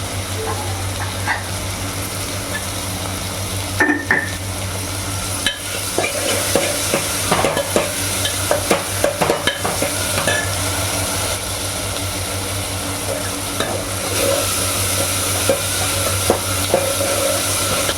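Tomatoes with salt frying in a pan, a continuous sizzle with intermittent scraping and clinking of a stirring spoon, close and fairly loud, over a steady low hum in a home kitchen.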